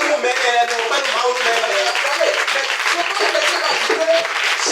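A church congregation applauding during a sermon, a dense, steady wash of clapping from many hands throughout, loud and close, with voices cheering faintly inside it.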